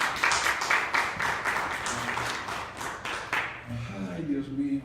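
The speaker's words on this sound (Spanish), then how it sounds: "Dale un aplauso al Señor." A church congregation applauds during a sermon, a dense wash of clapping for about three seconds that fades out as a voice speaks, moderately loud in a reverberant room.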